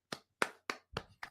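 A wrestler's signature hand clap, the Weasel clap: five sharp, separate claps spaced roughly evenly, fairly close and clear, with no talking.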